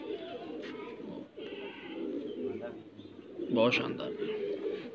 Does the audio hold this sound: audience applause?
no